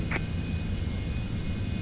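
Citation X business jet waiting for takeoff clearance, its engine a steady, broad roar with a constant high whine, heard alone without talk.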